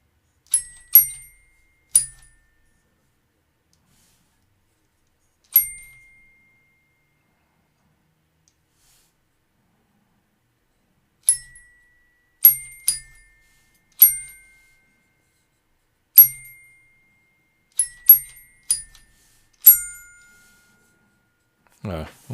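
A Ugears mechanical celesta plays Carol of the Bells, with clear bright metallic chimes struck one at a time and in quick clusters, separated by gaps of silence, close and alone.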